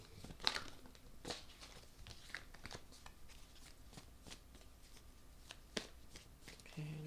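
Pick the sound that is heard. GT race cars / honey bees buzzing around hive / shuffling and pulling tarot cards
shuffling and pulling tarot cards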